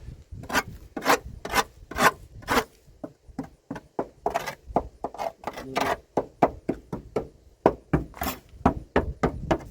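A screwdriver scrapes across rusted metal on a car trunk in quick, rhythmic strokes, about twenty close, harsh rasps with short pauses between bursts.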